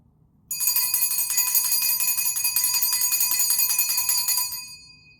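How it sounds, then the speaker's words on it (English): A small hand bell rings rapidly and continuously for about four seconds, bright and close, then fades out, with no voices. "I have to use my mom's bell."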